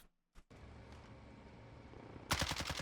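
Gunfire in Call of Duty Warzone, a quiet stretch of game ambience and then a loud, sudden burst of rapid automatic shots near the end, with no talk.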